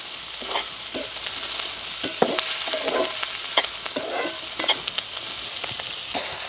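Onions and green chillies sauté in a pan with steady frying sizzle, broken by repeated scraping stirs of a spatula at irregular intervals, close and moderately loud with no voices.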